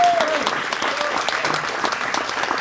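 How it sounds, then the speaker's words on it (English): Jazz club audience applauding the rhythm section after a Grant Green tribute set, a full, dense burst of clapping from a crowd, steady and close, with a faint held tone fading at the start. "let's give a huge round of applause for John and Tim"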